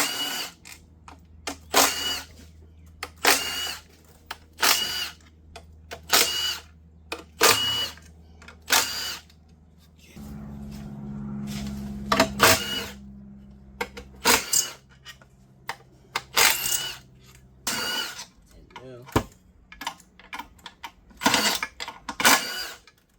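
A ratchet wrench spins off 10 mm bolts around the intake plenum of an Infiniti FX35/G35 during a valve cover gasket job, giving many close, rapid clicking bursts with short pauses between them and a steady hum underneath.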